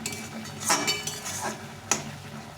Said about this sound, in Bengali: নেড়ে নেড়ে ভালো করে কষিয়ে নিতে হবে